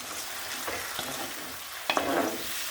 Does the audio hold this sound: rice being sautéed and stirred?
yes